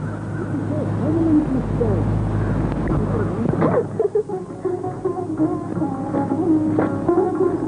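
A koel, the Asian cuckoo, calls with repeated hooting notes in a Hindi film scene, clearly heard over a steady dense background with voices talking.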